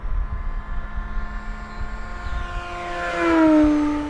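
A scale model RC airplane flying fast down a runway, its engine whine building from a distant drone to a loud close pass with a sharp pitch drop as it goes by.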